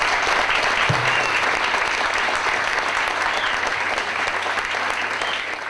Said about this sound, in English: could everybody give them a round of applause?